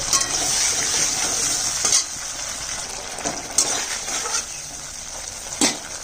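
Potatoes fry in hot oil with a ginger, cumin and green chili paste, a bright continuous sizzle broken by a few sharp stirring scrapes and clinks of a spoon against the pan.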